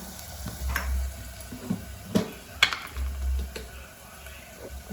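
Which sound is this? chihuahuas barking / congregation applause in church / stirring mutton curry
stirring mutton curry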